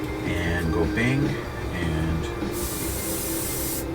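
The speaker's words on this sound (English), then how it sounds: "Okay, she's spraying pretty good." An airbrush paint sprayer gives a sharp, steady hiss that begins midway and runs to the end, while the painter of a model M2A3 Bradley talks quietly under a faint background hum.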